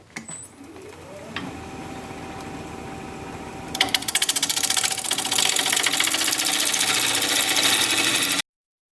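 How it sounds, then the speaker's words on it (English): A wood lathe spins a live-edge, end-grain winged bowl while a swept-back gouge cuts into it, a steady whirring hum that grows louder and rougher partway through as the tool bites in, continuing without talk. "I'm going to switch to a swept back gouge to try and get in here."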